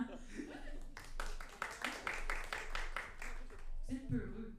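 A comedy club crowd breaks into a few seconds of applause with some light laughter, fading as a voice resumes.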